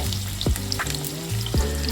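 Potato, papaya, carrot and cauliflower pieces frying in a pan for sabudana khichdi, a steady close sizzle with a few brief stirring scrapes and no talking.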